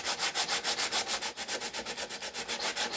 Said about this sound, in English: I got a piece of sandpaper here, and we're just going to kind of go inside this forearm right here and relieve this